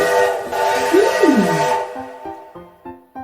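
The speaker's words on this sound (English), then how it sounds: "I think I hear another sound. It sounds like a train." A train whistle sounds a rising and falling tone, followed by a few short rhythmic chuffs, fairly loud and without talk over it, in a toddler learning show.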